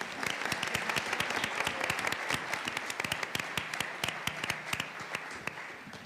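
Clapping from the audience at a school district board meeting, a fairly sparse spread of distinct individual hand claps heard at moderate distance, steady and even from start to finish.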